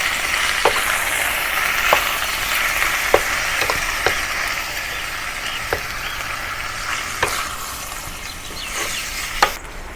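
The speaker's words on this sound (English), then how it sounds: "now I'll return the beef back to the pan. And continue stir fry" Beef stir-fried with spices in a pan for Sichuan beef noodle soup: a steady, close sizzle runs throughout, broken by regular sharp clicks and scrapes of the spatula stirring.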